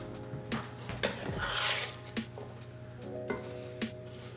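Green beans tossed in a pan, giving a soft rubbing, scraping sizzle with a few sharp clatters, loudest midway and close by, with no talking.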